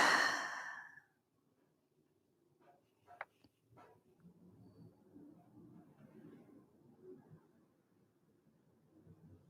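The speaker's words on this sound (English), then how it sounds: "And breathe." A single deep exhale during a yoga stretch in a home lockdown workout, loud and close for about a second, then near silence with faint low rustling and a couple of soft clicks.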